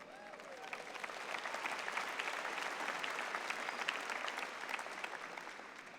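Audience at a graduate commencement ceremony at Adelphi University breaks into sustained applause, a dense wash of clapping that swells and holds steady for several seconds, with a little voice faintly mixed in.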